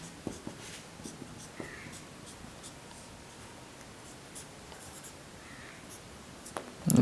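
A pen writes out a chemistry equation in soft, faint scratches and small taps, close by and quiet, ending with a louder bump.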